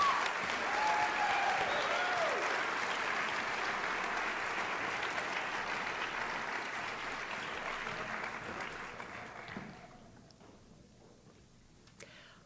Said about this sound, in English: Final round of applause for our Honor Society students.